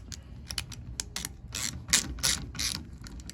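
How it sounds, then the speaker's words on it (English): A half-inch wrench ratchets in quick clicking bursts while tightening an automotive brake line fitting, the clicks irregular and close, with no talking. "I'm going to take this off and I'm going to get a 1/2 inch wrench"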